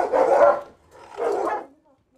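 Dogs bark in a kennel at an animal shelter in Bremen, two separate bursts of loud, close barking with a short pause between them.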